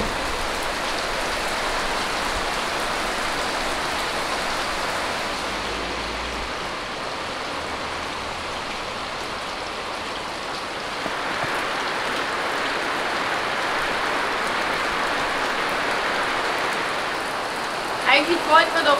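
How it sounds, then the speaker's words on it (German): Steady rain hissing continuously for the whole stretch during an e-bike ride in the Black Forest, moderately loud and close, with no breaks. "es regnet ein bisschen"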